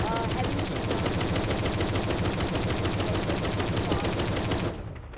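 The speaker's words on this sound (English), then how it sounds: "Heavy machine guns." Tank heavy machine guns fire in a video game, a loud, dense and rapid stream of shots that runs steadily for nearly five seconds before cutting off abruptly.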